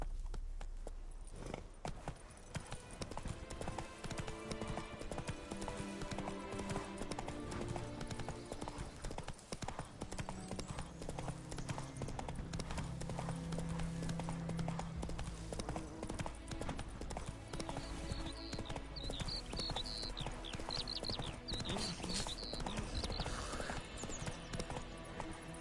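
Roach, the horse in The Witcher 3, gallops in a fast, continuous clip-clop of hooves under game ambience and music, steady and close, with a single short spoken line near the start.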